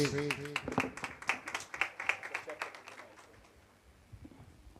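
Steady applause at a church service welcoming a pastor, with rapid, dense clapping that gradually fades out, while a voice speaks briefly at the start.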